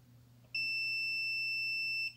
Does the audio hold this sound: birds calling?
no